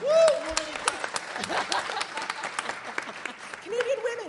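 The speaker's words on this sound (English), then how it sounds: "And give Emma a round of applause" Steady applause from an audience fills a live Linux user group conference panel, with voices and cheers rising over the clapping at the start and end.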